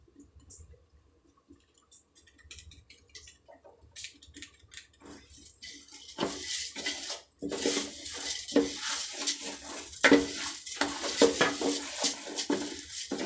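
Meat biryani masala being stirred in a pot: a metal spoon scrapes and clinks against the pot with a wet, frying sizzle, starting faint and growing louder and busier.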